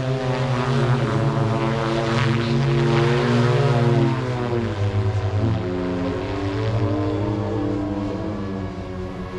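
Propellers of a Pivotal Black Fly VTOL aircraft drone loudly and continuously with a layered, buzzing hum that shifts in pitch as it passes nearby; no voices.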